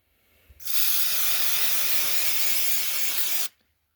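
A single sustained hiss of aerosol brake cleaner spray on a bicycle gear, about three seconds long, starting and stopping abruptly against near silence.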